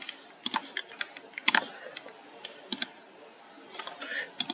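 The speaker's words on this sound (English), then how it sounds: "Man, all this clicking." Clicks from a computer mouse and keyboard typing come in scattered sharp taps and short clusters, close and crisp against a quiet room.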